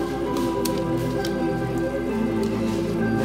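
Yogurt is stirred into chicken biryani masala, a loud close wet squelching and dripping that goes on steadily throughout.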